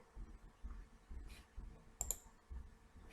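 Faint computer mouse clicks, a couple of sharp ticks close together near the middle, over quiet low background bumps with no speech.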